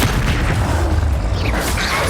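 A Confringo blasting curse explodes in Hogwarts Legacy, a loud, sustained booming roar of fiery blast noise filling the whole moment with no talk over it.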